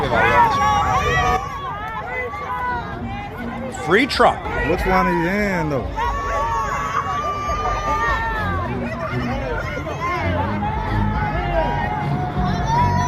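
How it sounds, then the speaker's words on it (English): A lively crowd gathers outside a courthouse as Donald Trump leaves, with loud shouts and chants from supporters rising over a constant hubbub of chatter. Nearby voices call out and talk throughout. "You can see people literally cheering for him."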